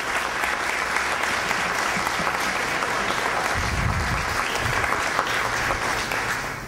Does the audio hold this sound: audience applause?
yes